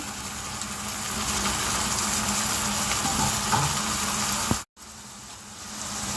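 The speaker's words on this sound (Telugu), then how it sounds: "ఉల్లిపాయ ముక్కలు అవి వేగిపోయాయి కదా ఇప్పుడు కోసి పెట్టుకున్న టమాటా ముక్కలు వేస్తున్నాను" Chopped tomato pieces dropped into a pan of fried onions, a loud steady sizzle that builds and holds, then a brief dropout before the frying noise resumes more quietly, close by, no talking.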